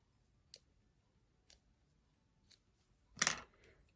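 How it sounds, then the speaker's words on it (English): Small craft scissors snip sharply during a handmade gift project, with three light clicks followed by one louder, fuller snip near the end against a quiet background. "I finally cleaned my little scissors,"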